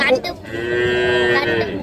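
Cattle low loudly at the Manapparai cattle market, one long sustained moo close by with other livestock and crowd noise in the background.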